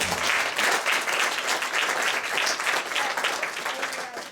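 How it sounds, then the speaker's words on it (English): Sustained audience applause fills a small-town art theater at a homecoming event, a dense wash of many hands clapping at steady loudness throughout, with no talk over it. "I want to give them a round of applause too"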